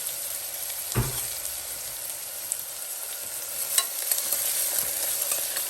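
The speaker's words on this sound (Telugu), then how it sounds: "కొంచెం మంచిగా ఆనియన్ గోల్డ్ కలర్లో వచ్చే వరకు ఎంచుకుందాము" Onions fry in a pan until golden, giving a continuous crackling sizzle up close with occasional soft taps and scrapes from stirring, no voices.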